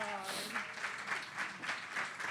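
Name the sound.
applause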